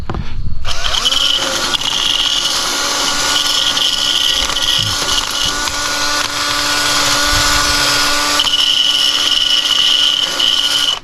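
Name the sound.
grinder removing rust from boat trailer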